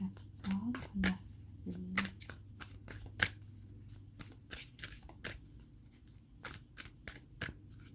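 Tarot cards shuffled by hand, a quiet run of soft riffles and slaps at an uneven rhythm, close up over a low steady hum.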